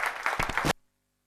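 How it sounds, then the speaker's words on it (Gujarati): An audience at a seminar in Bharuch applauds to welcome a speaker, a dense burst of clapping that runs under a second and then cuts off abruptly into silence. "એકવાર જોરદાર તાળીઓ તેમને આવકારીએ"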